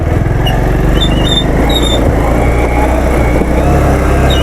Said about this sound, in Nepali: यस्तो छ ओह्रालो बाइकले किन कराइरहेको आज